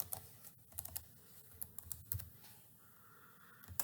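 Quick, light keystrokes on a computer keyboard, clicking in short irregular bursts with brief pauses, faint and close, no voices.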